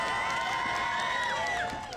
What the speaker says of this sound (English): One last cheer as Winnipeggers bid farewell to the royal couple